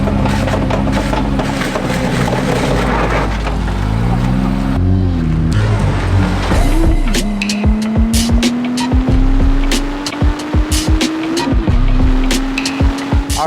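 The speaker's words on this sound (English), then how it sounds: "The ISR exhaust sounds awesome." Nissan Z engine running through an ISR aftermarket exhaust, a loud close drone that shifts pitch, then settles into a steady rising tone while sharp clicks and knocks break in over it.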